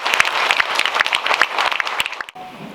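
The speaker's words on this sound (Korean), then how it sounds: "아낌없는 응원과 격려의 박수를 보내드리며" Congregation applause at a pastor's retirement worship service, a dense burst of many hands clapping steadily and fairly loud, then cutting off abruptly near the end into a quiet room.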